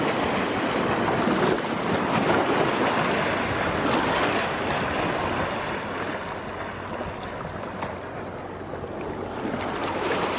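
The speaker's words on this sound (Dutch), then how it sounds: "Ja, daar waren de golven." Ocean waves wash and surge in a broad continuous roar on a sea bass fishing outing, swelling louder early on and easing slightly later, with wind blowing across the microphone.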